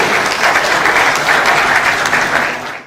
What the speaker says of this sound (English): I can't hear that applause.